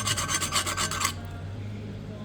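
A hand file rasps along the chipped edge of a leaf spring from a 1969 Ford F100 rear axle in about seven quick, rhythmic strokes over one second, then stops, leaving a low steady hum.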